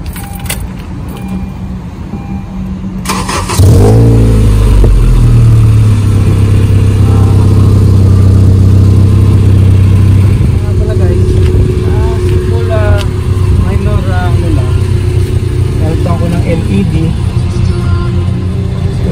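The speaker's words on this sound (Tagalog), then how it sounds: "ngayon naman ay pa-startin natin yung kotse." A 2012 ninth-generation Honda Civic Si is started after a brief jangle of keys. The engine cranks and catches into a loud, close idle, then climbs through steady revs while someone talks over it.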